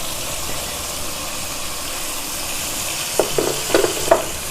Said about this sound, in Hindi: ये देखें कितना अच्छा सा मसाला हमारा भून रहा है